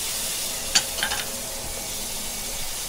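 Tomato puree being fried with masala in a pan for a liver curry, a soft steady sizzle with a couple of faint clinks of stirring near the start.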